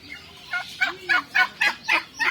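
Repeated turkey gobbles, about seven rapid bursts in a steady rhythm, fairly close and clear with no talking.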